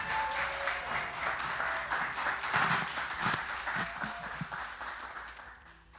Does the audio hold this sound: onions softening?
no